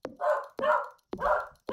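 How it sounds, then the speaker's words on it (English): A dog barks four times in a steady rhythm, each bark a sharp, fairly loud yelp with a short tail, with brief quiet gaps between them. "Apologies for the dog barking in the background."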